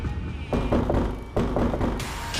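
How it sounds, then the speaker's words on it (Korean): Knocking on wood in a poltergeist story, several dull, hollow thumps in uneven clusters, close and fairly loud, with no voices over them. "알 수 없는 노크 소리가 집안 가득 울려 퍼지고"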